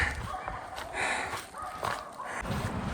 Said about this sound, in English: They're still barking at me.